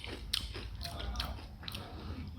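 Close, crisp crunching and biting of Cinnamon Toast Crunch cereal, several quick bites in succession with no talking.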